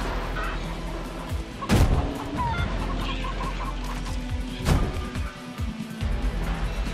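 Chickens in the game Far Cry New Dawn cluck and squawk close by in bursts, with a few sharp thuds and other game noise mixed in.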